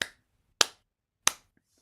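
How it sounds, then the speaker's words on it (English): Three single hand claps, evenly spaced and crisp, each decaying quickly into silence, heard alone and close. "Clap your hands 3 times"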